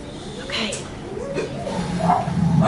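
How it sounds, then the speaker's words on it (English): A dog barking from the window of a passing car, a few yips and whimpering barks rising and falling as the vehicle goes by, mixed with faint voices in the background. "That was actually a car driving by and the dog was barking out the window."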